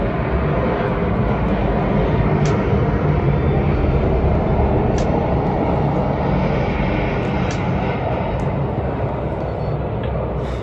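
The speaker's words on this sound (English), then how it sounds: "There's a plane going by." An airplane passes overhead in a sustained, even engine roar that holds for about ten seconds at steady loudness, with faint high clicks scattered on top and no voices.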